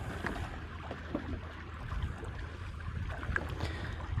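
A V8 turbo ski boat runs at speed on open water, a steady low engine drone mixed with wind buffeting and water rush, continuous and moderately distant with no talking.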